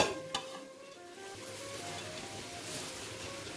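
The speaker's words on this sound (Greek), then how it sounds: "Αφήνουμε να φύγει το αλκοόλ και προσθέτουμε μέσα το λάχανο" Shredded cabbage tipped into a hot pot of braised pork: a soft thud of food landing, then a steady, moderate sizzle and frying hiss that carries on unbroken.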